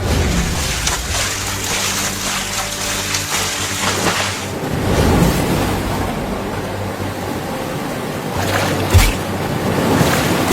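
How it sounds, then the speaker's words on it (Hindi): Heavy rain pours steadily in a cartoon flood scene, a continuous broadband wash like surf and wind, with a brief louder surge midway and another near the end. "लेकिन मम्मी देखो ना अभी भी बारिश बहुत तेज हो रही है।"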